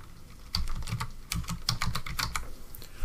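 Typing on a computer keyboard while entering text in the Krita 4 drawing program, with quick clusters of close, crisp key clicks separated by brief pauses.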